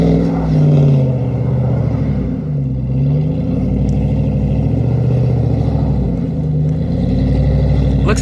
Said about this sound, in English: Looks like the car is cutting throttle.